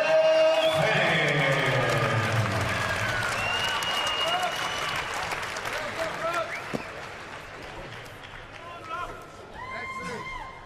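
Crowd applause and cheering after an MMA fight at a BAMMA 4 prelim event, loud at first and slowly fading over several seconds, with a voice over a microphone and scattered noise in the arena.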